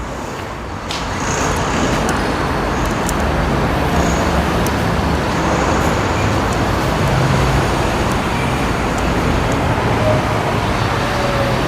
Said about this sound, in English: I see a lot of buses passing by on this street